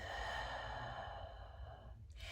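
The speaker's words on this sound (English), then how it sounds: "we're gonna inhale through our nose, exhale through our mouth" A long, breathy exhalation through the mouth during a breathing exercise, a soft, airy rush that fades gradually and ends with a brief faint sniff.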